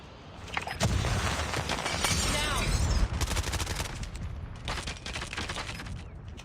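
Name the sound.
gunfire in video game Call of Duty Mobile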